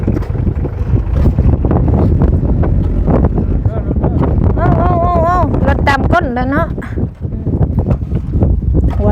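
Strong wind buffets the microphone outdoors in a loud, constant rumbling roar that never lets up, while people talk over it.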